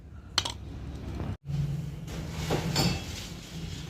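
Split firewood is dropped into a sack at home: a few hollow wooden clunks and light clattering knocks, close by and fairly quiet, separated by short pauses.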